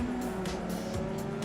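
Legacy Mazda MX-5 Cup race cars lapping Winton Motor Raceway in the iRacing simulator, a steady, loud engine drone with a sustained tonal whine and hints of tire squeal, continuous throughout.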